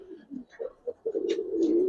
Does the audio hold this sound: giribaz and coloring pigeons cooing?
yes